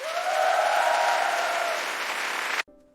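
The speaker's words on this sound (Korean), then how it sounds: "큰 박수 부탁드립니다" Audience applause greets a guest on a philosophy talk show, a strong steady wash of clapping that swells quickly, holds, then cuts off abruptly near the end.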